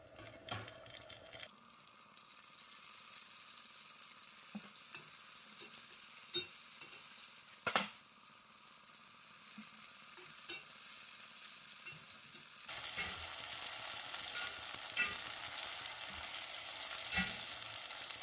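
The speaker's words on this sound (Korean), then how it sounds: "만두 튀길게요" Steady crackling sizzle of crab stick and cream cheese dumplings deep-frying in hot oil, continuous and close, with occasional sharp pops and a louder surge of bubbling near the end.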